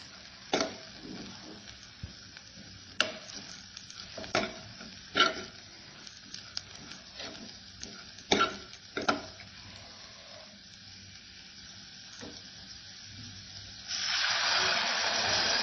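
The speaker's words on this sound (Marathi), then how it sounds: "मोड आलेली मटकी छान या मसाल्यांसोबत परतून घ्यायची" Sprouted moth beans are sautéed with spices in a pan, with sharp scrapes and clacks of a spoon stirring at irregular intervals over a soft sizzle that swells into a loud hiss at the end.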